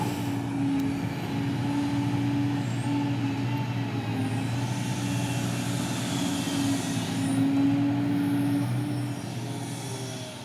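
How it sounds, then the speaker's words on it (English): A long fuel train rumbles steadily past, with a continuous low roar and a squealing wheel tone rising and fading, loud and close throughout. "And there goes the Heathrow fuel train as Flow begins to load the last wagon"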